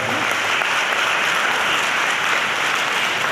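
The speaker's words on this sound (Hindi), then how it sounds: "तालियां ऐसी होनी चाहिए कि आसमान गुंजित हो जाए।" Dense, steady applause from a large audience at an Ambedkar Jayanti public meeting in a town hall, loud and continuous throughout with no break.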